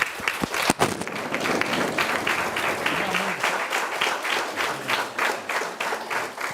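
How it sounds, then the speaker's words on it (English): Dense crowd applause in a hall at a state-level competition grand finale, steady and fairly close, with a faint voice heard beneath the clapping. "A great round of applause to Rahul."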